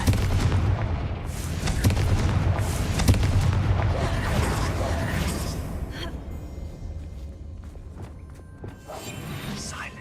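Hogwarts Legacy's Confringo fire spell goes off in loud, heavy booms and whooshing blasts, with several rumbling explosive bursts that fade into a quieter tail.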